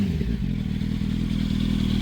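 A Yamaha YZF R1 superbike engine runs loud and close, a dense continuous low rumble with steady throbbing and no talk over it.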